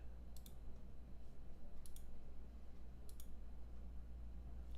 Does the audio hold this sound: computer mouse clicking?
yes